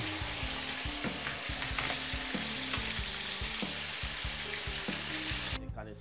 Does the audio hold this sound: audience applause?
no